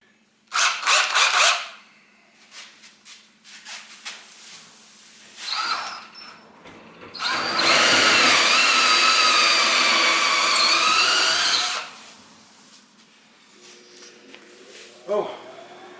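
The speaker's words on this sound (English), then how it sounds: "I'm getting ready to drill a bigger hole" A power drill bores a larger hole through a garage wall, starting after short bursts of handling noise. It then whines loudly and steadily for about four seconds before stopping, with quiet clatter afterward.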